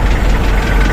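The engine of a 2006 Nissan Urvan van idles close by, a loud, steady low rumble with a rapid even pulsing over about one second.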